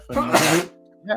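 A single sharp human sneeze bursts out close by, followed by a brief spoken word.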